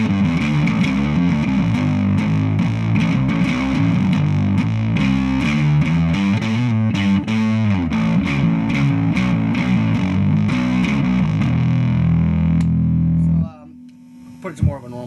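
Bass run through a germanium fuzz pedal with NOS germanium transistors, churning out loud, wild, noisy distorted tones that stay dense and continuous before cutting off sharply near the end.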